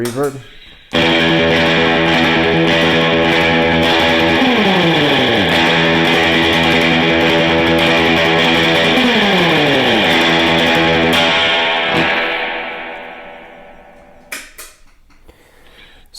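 An electric guitar plays surf-style triplet picking drenched in spring reverb, loud and continuous with sliding notes, then rings out into a decaying reverb tail before a few quiet clicks.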